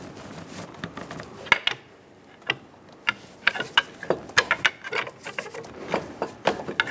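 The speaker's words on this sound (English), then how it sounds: "so use a pry bar" Scattered metallic clicks, knocks and scrapes as a pry bar works a stuck coolant temperature sensor loose on a 2003-2009 Dodge Ram 2500 5.7L V8, irregular close taps with quiet gaps between.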